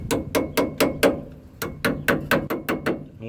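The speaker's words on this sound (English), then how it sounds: "just tap in the clips to hold it in place" Brake pad clips tapped into place on a Ford F-150 during a rear pad and rotor change: a quick series of about fourteen sharp metallic taps in two bursts, close and fairly loud, no talking.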